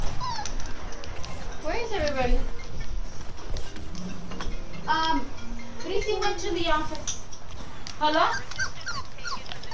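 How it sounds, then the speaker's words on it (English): A dog whimpers and cries in the background, its thin whines rising now and then beneath children talking over an online shooter game session. "Why do I hear a dog crying?"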